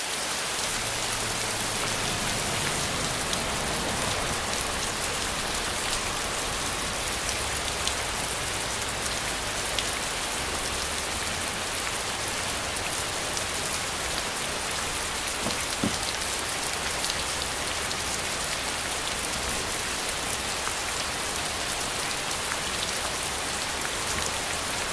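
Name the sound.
DIY film rain machine rain on car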